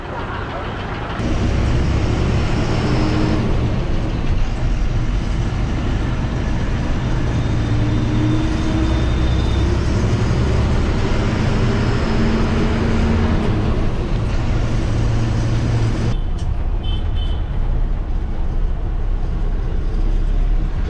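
An MSRTC seater sleeper bus pulls away, its engine holding a loud, steady low drone with rising gear tones throughout, and voices are faintly heard over the running motor.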